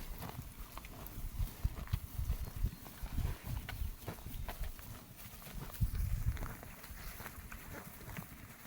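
Hooves clip-clop on the ground at a walking pace, several animals moving together with irregular low thuds, fairly close amid light outdoor noise.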